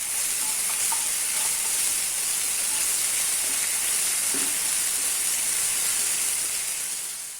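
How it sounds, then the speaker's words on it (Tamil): Ginger garlic paste, green chillies and curry leaves are sautéed with softened onions in a pan for egg tomato thokku, giving a continuous, loud sizzle and hiss with no talking. "பச்சை மிளகாய், கருவேப்பிலை எல்லாம் போட்டு வதக்கலாம்."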